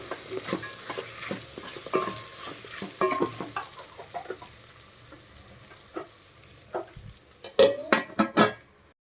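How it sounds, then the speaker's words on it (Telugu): Chopped tomatoes with chillies cooking in a pan for vegetable biryani, with repeated scraping and clattering stirring strokes over a soft sizzle, ending in a burst of quicker close stirring. "టమోటా మెత్తపడే వరకు కుక్ అవ్వాలి"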